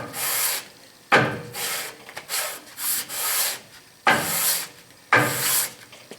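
Fine 320 grit abrasive cloth rubs the four-jaw chuck of an Atlas 618 lathe during rust cleanup, giving repeated bursts of dry scrubbing strokes, several long passes separated by short pauses, close and fairly loud.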